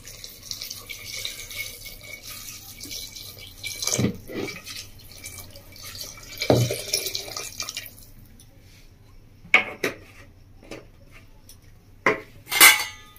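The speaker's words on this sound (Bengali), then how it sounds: "এবার দিয়ে দিচ্ছি বন্ধুরা জল" Water poured into a pot of masoor dal with drumstick and mixed vegetables, a soft splashing run followed by clinks of metal utensils and a few sharp knocks, quiet and close, with no talk.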